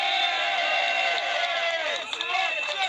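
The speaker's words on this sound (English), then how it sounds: "Give the man another round of applause" An outdoor demonstration crowd cheers and whoops for a man who has just spoken, a steady roar of voices with scattered claps and shouts, fairly distant.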